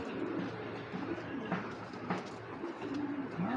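Pigeons coo nearby in soft, repeated low calls over a faint background murmur.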